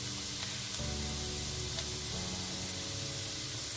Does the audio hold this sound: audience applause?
no